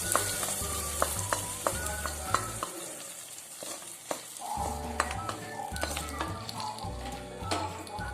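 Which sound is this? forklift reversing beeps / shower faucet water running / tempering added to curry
tempering added to curry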